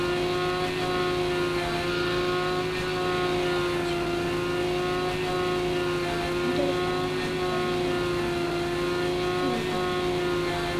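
A motorbike engine in the Indian Bike Driving 3D video game holds a steady, loud droning tone with layered harmonics, with no talk over it.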